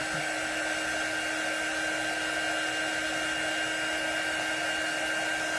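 A dryer blows without a break to dry freshly stained letters on a honey bee door hanger, giving a constant, close, even whoosh with a faint whine and no talk.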